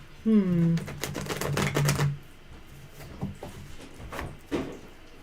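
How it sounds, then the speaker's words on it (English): Tarot cards being shuffled by hand: a burst of quick papery riffling and clicking over about two seconds, with a voice sounding briefly near the start and a few softer taps afterward. "I'm shuffling for Mr. M."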